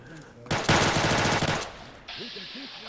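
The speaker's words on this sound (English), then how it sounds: "the guns are so bloody loud" Loud modded automatic gunfire in Fallout: New Vegas, a rapid burst of about a second that dominates the mix, followed by a quieter sustained tone with faint talk underneath.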